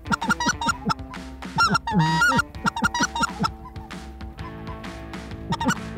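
A huge flock of geese honks loudly and continuously during a stormy-weather goose hunt, with dense overlapping calls near and far and one especially close, loud honking burst.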